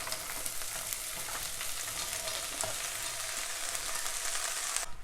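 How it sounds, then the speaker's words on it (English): Green beans sautéing in a pan for an Iraqi green bean stew, a dense, steady sizzle and crackle of frying that carries on alone, close and fairly loud, with faint stirring clicks. "I've been letting my green beans saute"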